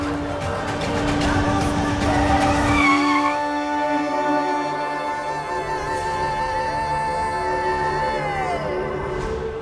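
A car brakes hard and skids to a stop, tires squealing loudly for several seconds with a rough, gritty screech that thins into a lingering high whine as it fades out.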